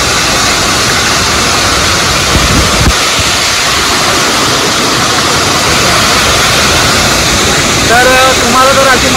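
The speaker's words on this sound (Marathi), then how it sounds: "तुम्ही बघू शकता धबधबा." The waterfall at Godgaon gives a loud, continuous broadband rush of falling water, with brief wind buffeting on the microphone and faint voices near the end.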